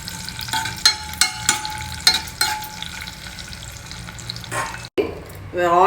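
Cashews, raisins and copra coconut fry in ghee for Sakkara Pongal, a continuous sizzle broken by repeated stirring scrapes, close up, ending with a short clatter and a brief louder hiss as the pan is handled.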